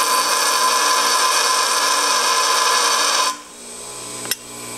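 A bench grinder wheel grinds a piece of low carbon steel for a spark test, a steady loud high-pitched whine for about three seconds, then the contact stops, leaving a quieter hum with one sharp tick near the end.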